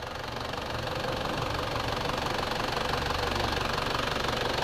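An Isuzu Fuego engine idles steadily with its AC compressor and an added cooling fan running, a close, even mechanical knocking drone throughout.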